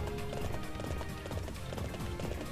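Horse hooves clip-clop rapidly in the Warriors Orochi 3 video game, a fast galloping rhythm over a dense wash of battle noise and music.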